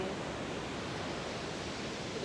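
Steady, soft rushing of ocean surf washing onto a shore, a continuous even wash without distinct individual breakers, heard alone at a gentle, calm level.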